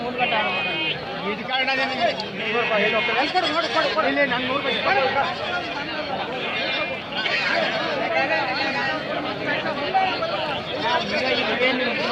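Goats and kids bleat repeatedly at a crowded weekly livestock market in Gandasi, Karnataka, several quavering cries rising over a constant hubbub of traders' voices and chatter.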